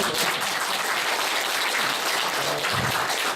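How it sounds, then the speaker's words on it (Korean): Listeners at a Diamond Sutra lecture give a round of applause. Dense, even clapping carries on throughout, with a brief low voice near the end. "박수 한번 주세요."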